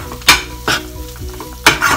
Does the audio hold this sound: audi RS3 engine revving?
no